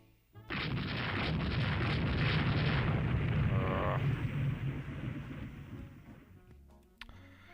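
Naval gunfire in the Rule the Waves 3 naval warfare game as ships shell a Chinese vessel. A sudden loud blast is followed by a long rumbling roar that slowly fades, then a sharp pop near the end.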